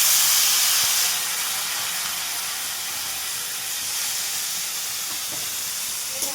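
Water hits a spice paste in a hot pan while cooking Bengali patal dalna. A strong hissing burst of steam settles into a steady sizzle, with no talking.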